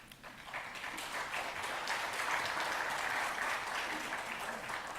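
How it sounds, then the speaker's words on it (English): An audience at the APNIC member meeting conference in Vietnam breaks into sustained applause, a dense wash of clapping that swells and holds steady for several seconds. "Please, big applause to APNIC."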